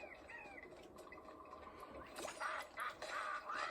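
A bird coos in the Skylanders video game, soft rounded calls in the foreground, followed by brighter game sound effects and a few sharp clatters toward the end, with no speech.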